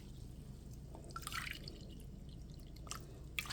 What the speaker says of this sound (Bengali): মিক্স করে 2 কাপ কুসুম গরম দুধ দিয়ে দেব।